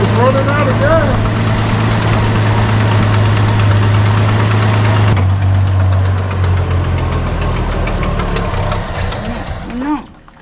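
A 1973 Dodge Dart Swinger, a barn find started for the first time in 29 years, runs loud and close with a rough, knocking idle that sags and stumbles as it runs out of gas, then dies near the end.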